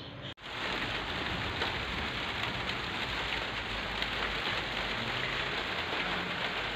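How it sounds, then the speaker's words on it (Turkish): Steady rain falls throughout, a dense, even hiss of drops on a surface, close and continuous. "Yağmur da başladı."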